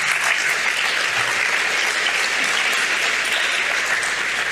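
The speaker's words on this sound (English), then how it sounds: "Applause to her." Audience applause at the TransVision Madrid 2025 summit, a steady dense clapping from a large crowd that keeps an even loudness throughout.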